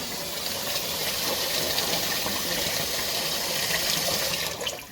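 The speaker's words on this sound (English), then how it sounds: "So into the pot, though, with the water, we're going to fill it with water." Tap water pours in a loud, steady rush into a big pot being filled for boiling bagels, a continuous gushing stream that runs for several seconds before easing off at the end.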